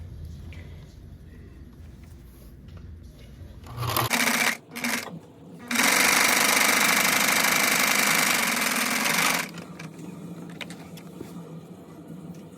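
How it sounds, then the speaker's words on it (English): A sewing machine top stitches a seam on a cat-shaped purse, a short start-stop burst of stitching followed by a steady, loud, close run of a few seconds, then quieter room sound. "Now I'm just going to go ahead and top stitch."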